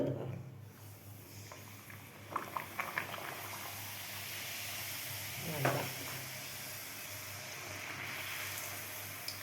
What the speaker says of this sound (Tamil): அப்புறமா எண்ணெயில் பொரிச்சு எடுக்கணும்